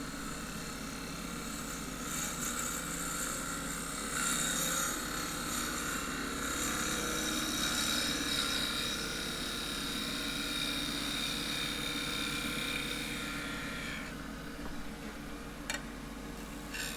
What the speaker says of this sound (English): And use the 1/4 inch ball gouge this time.